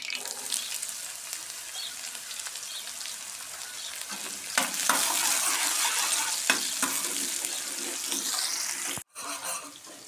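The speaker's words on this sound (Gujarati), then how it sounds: "હવે આપણે નાખી દઈએ ડુંગળી" Chopped onions hit hot oil already crackling with cumin and mustard seeds, setting off a loud, steady sizzle with scraping stirs that briefly cuts out near the end before resuming.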